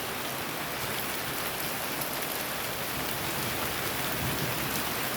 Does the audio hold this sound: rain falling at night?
yes